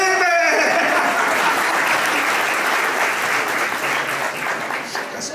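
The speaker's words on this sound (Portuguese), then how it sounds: "Uma salva de palmas para Felipe!" Church audience applauding at a sermon, a dense burst of many hands clapping that begins loud and full, then slowly thins and fades toward the end.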